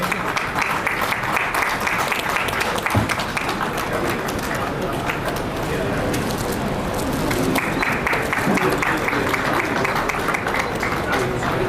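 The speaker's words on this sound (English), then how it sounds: "Round of applause, everybody." Steady applause from a sizable crowd at an inaugural ceremony fills the room continuously, with murmured voices mixed in beneath the clapping.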